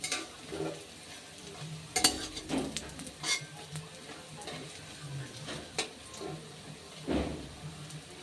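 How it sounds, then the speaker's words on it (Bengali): Egg and lentil tikki patties frying in a pan, with faint sizzling under soft scraping, stirring and occasional clinks of a utensil against the pan as they are turned. "এবার আর ঢাকা দেব না, এবার উল্টে পাল্টে ভাজবো।"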